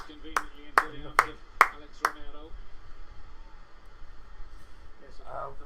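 A phone's low-battery alert chimes in a quick run of five sharp, evenly spaced pings, heard during live football match commentary with crowd-like background noise and faint talk after.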